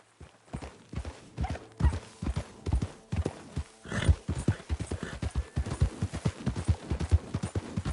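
Brisk, rhythmic clip-clop of horse hooves trotting close by in the video game Red Dead Redemption 2, steady and continuous, with a faint whinny partway through.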